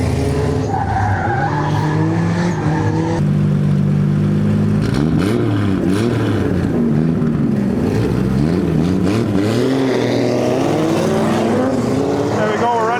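A Chevrolet Corvette C6 drift car at a grassroots Midwest drift event, its V8 loud and close, revving up and down in rising and falling sweeps with skidding tire noise underneath.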